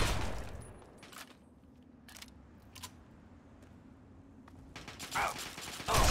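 Gunfire in Fallout 3 with the Alton, IL mod, several sharp, clicky shots and mechanical clatter spread across the stretch, faster bursts near the end, over a low ambient hum.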